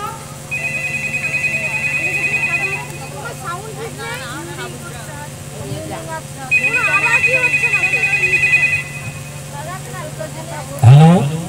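A telephone rings in two long electronic bursts separated by a pause, set against a low steady hum and background voices in a household scene.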